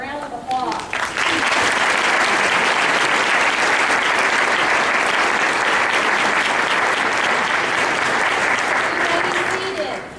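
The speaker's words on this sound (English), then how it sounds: "If all my 7th grade new members would please stand and let's give them a round of applause." A school auditorium crowd at a Buckhorn Middle School honor society induction gives a round of applause for new 7th grade members, a loud, full clapping that swells quickly and continues steadily for about nine seconds.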